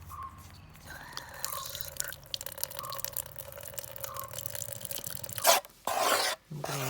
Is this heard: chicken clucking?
no